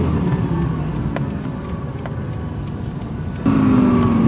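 A Lexus LFA with its Yamaha-tuned V10 runs as a steady close engine drone, then near the end it jumps louder as the revs climb into a rising, higher-pitched wail.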